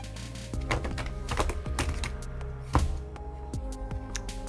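Rapid, crisp riffling and tapping of cards being shuffled close by, in short bursts with a sharp knock midway and quieter handling after.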